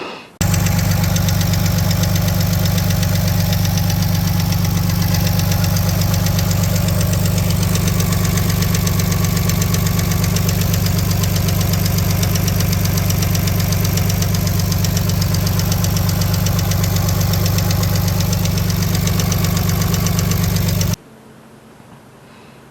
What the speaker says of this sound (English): It's a metal on metal tapping sound.